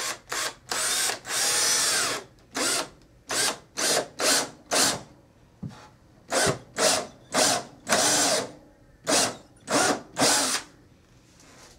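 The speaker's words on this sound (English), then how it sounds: "I'm going to go ahead and start drilling some holes, some countersink holes to go in through the studs and into the wall sill or sole plate" A power drill boring countersink holes through wall studs into a bathroom sole plate, loud close bursts of whining motor, about fifteen short runs separated by brief pauses, with no talk.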